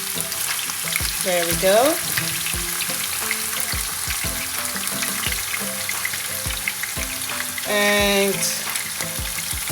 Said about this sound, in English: I love that sizzle, when it sizzles like that, I love it.